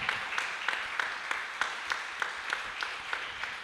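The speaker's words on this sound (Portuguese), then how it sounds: "Você pode aplaudir o Senhor?" A church congregation at a Sunday celebration service claps steadily in a rhythmic beat, moderately distant and filling the room, with no talk over it.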